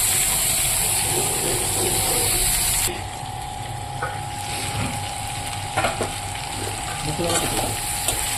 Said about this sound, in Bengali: এবার মশলাটা কষিয়ে নেবো কাঁঠালের সঙ্গে